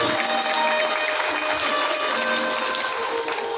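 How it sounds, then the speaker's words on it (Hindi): Applause welcoming a speaker at a religious Bhagavat Katha gathering: dense, steady clapping from a large crowd, loud and continuous without pause. "एक बार जोरदार तालियों से स्वागत करिए"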